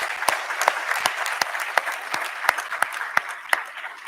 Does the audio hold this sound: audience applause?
yes